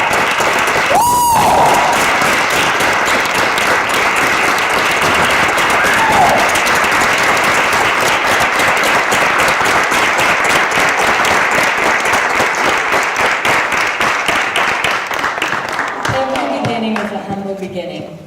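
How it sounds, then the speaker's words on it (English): At a student talks event, a large audience gives a long, steady round of applause for recognised participants, with a brief whistle near the start; the clapping thins and fades over the last few seconds. "So let's give them one last round of applause."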